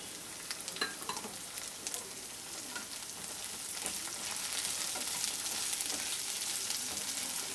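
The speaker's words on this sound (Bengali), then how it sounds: "এই সবজিগুলো ফ্রাই হয়ে গেছে, এখন আমি দিয়ে দেবো এর মধ্যে ক্যাপসিকাম কুচিটা" Chopped vegetables with capsicum and green chili stir-fry in a hot pan for restaurant-style mixed fried rice, a constant loud sizzle with scraping stir sounds that thickens in the second half.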